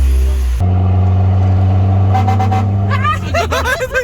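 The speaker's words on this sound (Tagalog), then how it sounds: "may truck sa likod" A loud truck engine drones steadily close behind, then revs and rises in pitch near the end.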